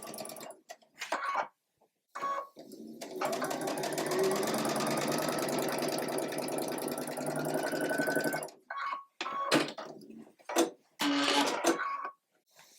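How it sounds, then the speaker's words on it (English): Sewing machine chain stitching quilt block pieces, a steady run of rapid needle clatter lasting several seconds, framed by short bursts of stitching before and after, close and clear with no talk. "I can be very careful about sewing exactly through that point"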